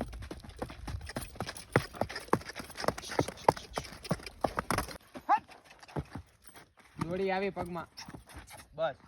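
A ridden horse's hooves clip-clop in a quick, close, even rhythm for several seconds, then stop; a voice and a short whinny-like call follow.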